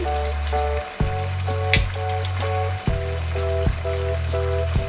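Lemon juice added to chicken frying in a pan, a loud steady sizzle under a repeating tonal pattern of background music, with a few sharp knocks.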